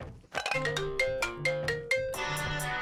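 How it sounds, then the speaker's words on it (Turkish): A phone ringtone rings out as a bright, rhythmic chiming melody that repeats with clear strikes and ringing tails, loud and close, with no talk over it. "Telefon çaldı ya."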